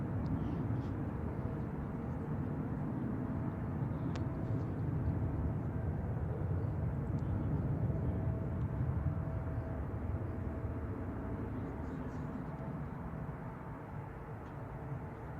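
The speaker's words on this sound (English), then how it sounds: "Our next arrival is going to be Southwest Airlines, Boeing 737-700, coming in from Los Angeles" A Southwest Airlines Boeing 737-700 arriving at San Francisco airport from Los Angeles, a steady low jet rumble from a distance, holding even for the whole span with no talk.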